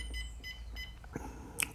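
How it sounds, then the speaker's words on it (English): A Humminbird Helix fish finder sounds its alarm tone, a few short electronic beeps repeating at a quick pace and ending in a sharper high chirp, close and clear with no talking. "You set the alarm tone, right? So there's low, medium, and high."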